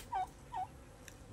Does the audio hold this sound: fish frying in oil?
no